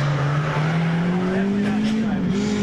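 A race car on a practice lap at a track holds a steady, loud engine drone whose pitch climbs slowly and evenly across the stretch, with a constant low roar and no clear pass-by peak.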